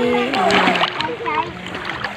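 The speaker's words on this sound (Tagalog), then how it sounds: "Naglalaro ng tubig." Children splashing and playing in shallow sea water at Tabunan Beach, with lively splashes and shrill kid voices near and busy.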